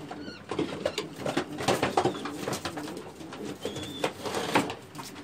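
Pigeons coo repeatedly inside a pigeon loft, their soft throaty calls overlapping close by with faint rustling and fluttering.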